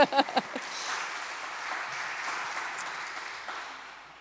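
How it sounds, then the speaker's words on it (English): Church congregation applause during a Sunday service, starting with a few sharp claps and a brief voice before a sustained, moderately loud wash of clapping that slowly fades. "Give him a round of applause."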